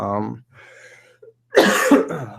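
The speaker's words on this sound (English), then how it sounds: "Sorry for coughing." A voice, then a quiet pause, followed by a sudden harsh cough burst, close and loud.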